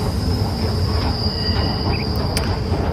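A metro train running through the tunnel: a dense, steady rumble of wheels on track with a sustained high metallic squeal over it and brief faint screeches, loud and close with no talking.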